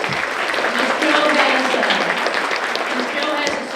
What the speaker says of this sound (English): Let's give Samuel a big round of applause